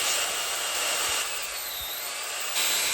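Scrap steel angle is cut into two pieces with a power cutting tool, giving a steady, loud, bright grinding whine that runs the whole time with slight shifts in pitch.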